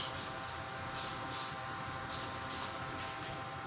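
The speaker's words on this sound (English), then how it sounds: "You want to spray it as evenly as you can." A spray can hisses in short repeated bursts while paint is dusted onto John Deere 111 tractor parts in a shop, fairly faint and steady with no talking.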